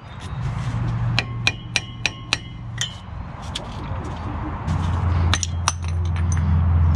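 Hammer striking to drive bearings out of a large metal brake housing, a run of five sharp metallic blows followed by a few scattered clinks over a low background hum.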